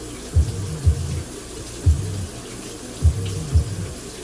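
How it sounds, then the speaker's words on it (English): Cold tap water runs steadily over instant noodles in a strainer, with a few soft low thumps as the strainer is shaken while rinsing. "I'm just like rinsing it for quite a while with cold water"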